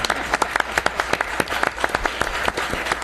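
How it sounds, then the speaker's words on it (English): A council meeting audience in Capitola, California bursts into applause after a unanimous vote, with distinct hand claps at a quick, uneven rhythm, fairly close and lively throughout. "Now you can applaud."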